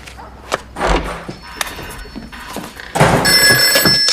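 A telephone rings in a film scene, its bright electronic tones arriving after a few thumps and knocks, growing louder and steady toward the end, with no voices.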